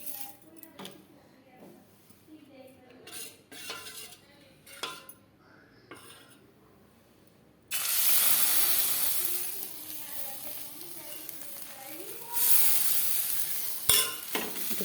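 Food fries in oil in a pan for a home-cooked fried rice and chicken meal, starting with scattered clinks and scraping, then a loud sustained sizzle bursts in after fresh oil is added, swelling again near the end.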